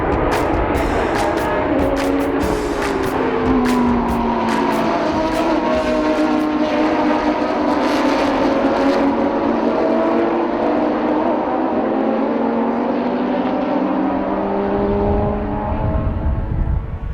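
GT3 race cars in a big field at Sebring roar past together, engines revving and sweeping in pitch as they pass, a loud and continuous wall of motor noise throughout.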